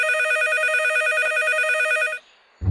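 A cartoon telephone rings with a bright electronic trilling tone, loud and sustained for about two seconds before cutting off, followed by a brief thump.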